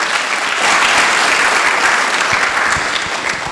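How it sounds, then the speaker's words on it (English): Audience applause at a Governor's Symposium panel honoring a police chief's ten years of service, a dense, loud, sustained wash of clapping from a large crowd. "I think he can get another round of applause for that."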